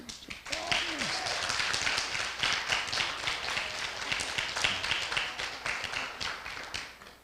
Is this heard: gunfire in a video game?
no